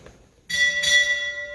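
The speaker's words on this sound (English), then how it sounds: "Ring, 2 bells." A ship's bell rings two bells at a naval retirement ceremony, two bright metallic strikes in quick succession that ring on and decay slowly, close and clear.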